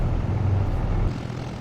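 A P-38 Lightning's propeller engines in the Prepar3D flight simulator, a steady low droning rumble that holds loud and even, then drops slightly toward the end, with no talking.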